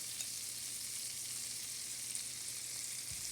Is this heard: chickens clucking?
no